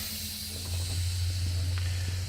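Air brakes on a truck being released during a pre-trip brake check, giving a steady broadband hiss of escaping air with a low engine-like rumble beneath, continuous and fairly close throughout.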